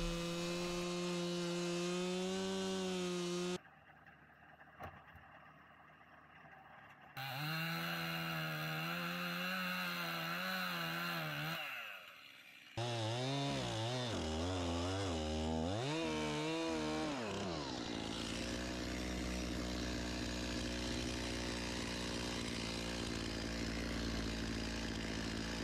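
A chainsaw revs and bogs down as it cuts into wood on an Alaska homestead, dropping to a quieter idle between cuts, loud and close.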